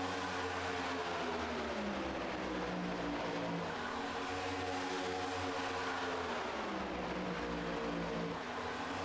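Race cars roar around Talladega in the iRacing video game, a dense pack of engines droning at steady speed with overlapping tones that shift slightly in pitch as cars jostle. The sound is continuous and moderately loud, with no voices.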